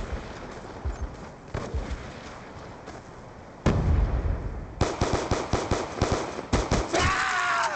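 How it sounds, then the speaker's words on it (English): Hellstorm missile explosions in Black Ops II break out as a sudden loud blast, followed by rapid bursts of gunfire and cracking detonations that stutter and pile up near the listener. "Friendly Hellstorm missile inbound."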